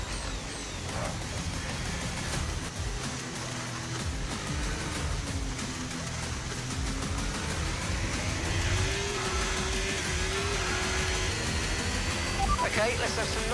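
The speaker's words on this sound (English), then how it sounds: "I just drifted an F1 car for crying out loud." An F1 car engine drones in a rain-soaked racing video game, its pitch rising and falling with throttle changes. The engine sits at a moderate level beneath steady talk from a player.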